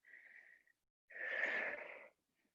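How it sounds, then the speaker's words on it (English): Two long breaths taken during an exercise class, a softer one followed by a longer, stronger exhale-like rush of air, close and alone with no talk. "Deep breathing."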